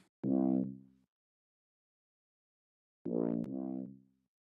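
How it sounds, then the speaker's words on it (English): Two separate synth bass notes, thick and boomy with a gritty, distorted edge, each held briefly and fading, separated by a long silence. "And the synth bass uses these specific settings and sounds like this."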